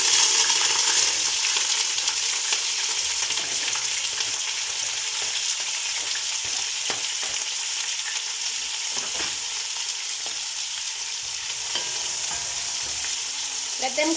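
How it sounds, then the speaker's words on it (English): Small onions fry in hot oil for sautéed potatoes while being stirred, giving a loud, continuous hiss and sizzle with occasional scraping and clinking from the stirring. "So our oil is hot enough. These are my onions."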